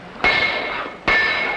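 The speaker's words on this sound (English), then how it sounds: "Why'd you learn to throw a hammer like that, Terry?" A hammer thrown by hand in a riverboat salvage scene lands with two sharp metallic strikes spaced under a second apart, each ringing out and fading slowly.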